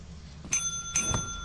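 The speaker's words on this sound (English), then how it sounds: "Don't make me ring this bell again" A bell rung twice in the video game Lethal Company, each ring a bright, sharp ding with a short ringing tail, heard alone over a low background hum.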